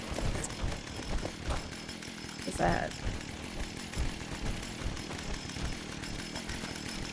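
A buzzing video-game chainsaw drones continuously in the background while a person speaks briefly over it, with a sharp bump midway.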